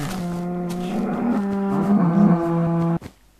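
A cow in Minecraft moos loudly in one long, steady low call lasting about three seconds, then cuts off abruptly.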